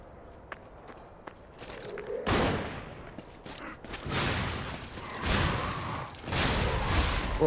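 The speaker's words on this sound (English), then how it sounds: "I just block an explosion." Explosion blocked by a character in the action game Lies of P, heard as several loud, broad bursts and impacts from about two seconds on, following lighter footstep-like taps at the start.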